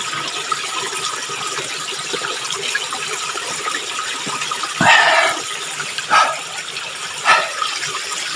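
Fresh spring water flows steadily as it is collected for drinking, a constant close hiss broken by a few brief splashes and knocks.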